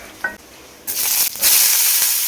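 Panch phoron spices hit hot oil in a pan as a curry starts cooking, bursting into a loud, steady, bright sizzle after a quiet moment, swelling a little as it continues.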